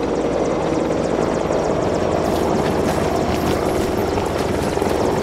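Helicopter in the video game DayZ, a loud, constant thudding rotor and engine roar that stays close and steady for the whole stretch, with no one speaking.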